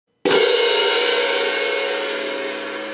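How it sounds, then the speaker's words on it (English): A pair of crash cymbals struck once with an even, basic crash technique, giving a single loud bright clash that rings out fully and decays slowly with a sustained shimmering wash. "So a good sound for a cymbal is a nice even crash."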